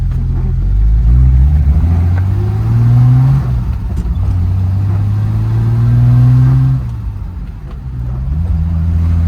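A car engine accelerates through the gears, its loud revving climbing and then dropping as the overdrive engages, followed by a steadier lower drone and a fresh climb.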